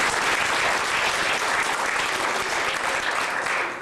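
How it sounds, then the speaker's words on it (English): A crowd gives itself a round of applause, a thick, continuous burst of clapping from many people that stays loud and even before tapering slightly at the end. "Please give yourselves a round of applause."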